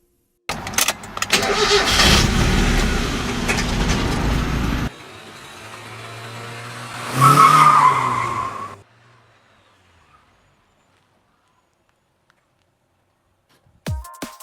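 Mazda MX-5 engine in a Need for Speed video game, loud revving and accelerating with a quieter idle-like stretch, a second surging rev, then fading to near silence before a brief sound at the end.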